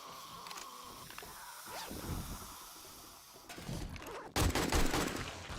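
Zombies are gunned down in the video game 7 Days to Die, with bursts of rapid gunfire that build up and grow loudest in the final seconds.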